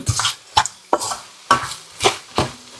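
Ground mustard-fenugreek powder and meat spice powder are stirred into chicken pickle in a pan. About six distinct scraping strokes sound in an even rhythm, close and fairly loud, with brief quiet gaps.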